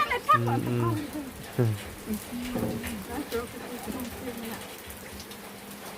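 Rain falls steadily and rather softly as a continuous patter outdoors. A man and a woman chat over it in places.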